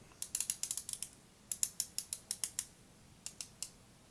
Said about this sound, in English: The action turns real easy with solid tactile feedback and nice clear audible clicking as you turn it.